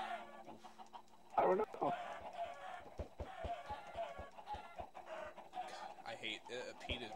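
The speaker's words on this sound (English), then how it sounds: "why are you beating chickens with eggs?" Chickens cluck and squawk in Minecraft as they are hit with eggs, with repeated short clucks and thumping hits throughout while people talk over the noise.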